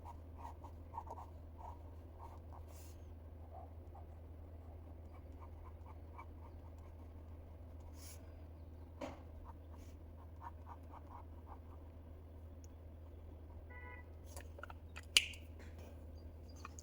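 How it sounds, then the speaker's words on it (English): Polychromos colored pencil scratching softly across paper in an adult coloring book, faint intermittent strokes and taps over a quiet low hum, no speech. "Now I'm using my polychromos pencil."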